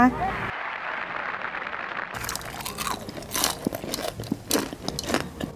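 Someone bites into crispy fried shredded crab stick, giving several close, sharp crunches and chewing crackles that come in irregular bursts amid some talk.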